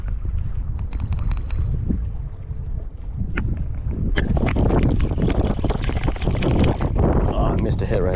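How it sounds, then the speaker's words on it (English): Gusty wind buffets the microphone outdoors on inshore water near Charleston, South Carolina while fishing from a boat, rumbling loudly and unevenly throughout with someone speaking over it. "That wind's pushing my cork off a little bit"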